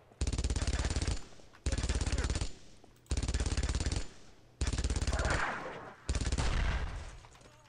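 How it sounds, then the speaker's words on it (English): The MG42 machine gun fires in the World War II video game Brothers in Arms: Road to Hill 30. Five loud bursts come one after another, each about a second long, at a very rapid rate with no voices heard. "MG42 in it is actually quite terrifying. The rate of fire."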